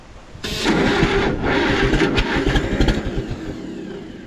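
An Oliver 550 tractor engine fires on carb cleaner, catching abruptly and running loud and rough for a few seconds with uneven revs, then sputtering and dying away.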